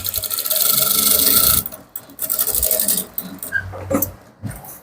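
A sewing machine runs at speed stitching an Ankara fabric trouser, with loud, close whirring bursts of rapid stitching, a brief pause, another run, then lighter fabric handling and clicks.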